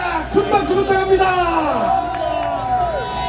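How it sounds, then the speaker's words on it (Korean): A large rally crowd roars and cheers in a dense, continuous wash, with whoops and a scatter of clapping, as loud chanting voices rise and fall over it for a few seconds. "큰 박수 부탁합니다."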